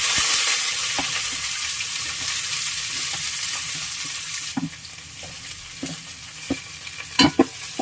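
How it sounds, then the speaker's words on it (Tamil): Three chopped large onions sizzle in hot oil in a pan for a cauliflower kurma, with a spatula stirring and knocking against the pan at irregular intervals, several louder taps near the end. "பெரிய வெங்காயம் போட்டுருக்கிறேன்."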